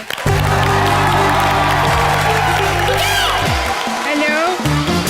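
A studio audience on a Hindi TV comedy show applauds to welcome guests, the clapping and cheering spread out under loud, steady music.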